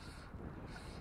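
Headwind gusts buffet the microphone during a fly fishing outing, a brief, low rushing roar of wind noise filling the whole moment with no speech.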